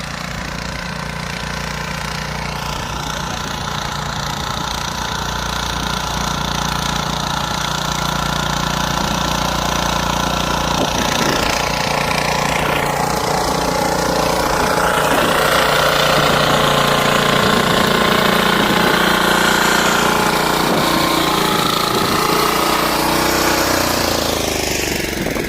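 A farm bed-making machine's engine runs continuously nearby, a loud, steady mechanical drone with a knocking, vibrating rumble that holds throughout without pause.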